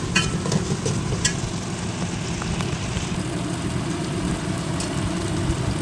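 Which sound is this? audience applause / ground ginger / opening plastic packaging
ground ginger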